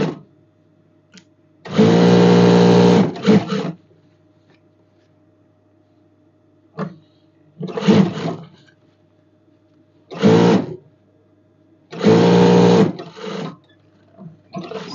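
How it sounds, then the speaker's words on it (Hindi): A sewing machine stitches the side pocket of a night dress, a jalabiya-style kandura, in several loud bursts of a few seconds each, separated by pauses filled with a low steady hum. "साइड पॉकेट को जो है आपको एक सूत पे सिलाई लगा देनी है ये वाली।"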